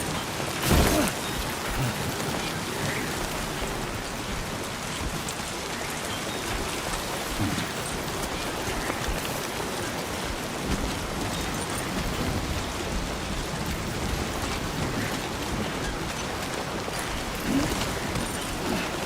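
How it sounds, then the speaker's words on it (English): Steady, dense rain pours down evenly in the video game Death Stranding 2, with a brief sharp knock near the start and no voices. "I don't know if that's gonna be risky now that it's raining."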